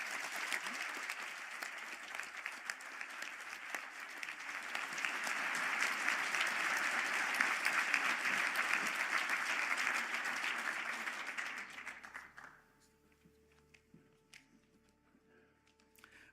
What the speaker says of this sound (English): I ask the graduates of the Master of Science in Human Resource Management and Employee Relations to stand for a round of applause